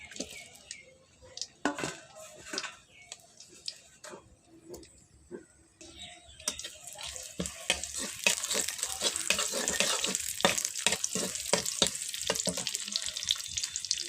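Chopped onion sizzles and crackles in hot mustard oil in an iron wok, with sharp scraping stirs at the start and the frying growing louder and denser toward the end.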